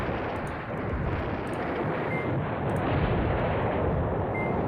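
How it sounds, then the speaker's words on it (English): Artillery fire in the wargame Command Ops 2: a continuous heavy roar of distant shelling, dense and loud throughout with no clear separate blasts, and no talk over it. "Let's keep it dropping artillery on them."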